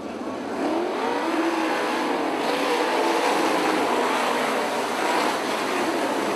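Race cars roaring around a dirt oval track during an IRA A-Main feature, a steady loud blend of engines passing without pause.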